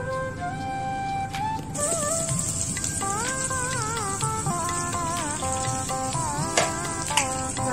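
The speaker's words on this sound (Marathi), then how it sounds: "राई जिरा थोडासा तडकला आहे तर आता आपण त्यामध्ये कांदा ॲड करत आहोत." Chopped onion goes into hot oil with crackling mustard seeds and cumin, a steady close sizzle with scattered pops and spatters, while melodic music plays over it.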